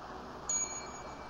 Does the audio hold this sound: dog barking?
no